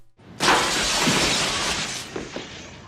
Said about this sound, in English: they picked me up and threw me through the downstairs window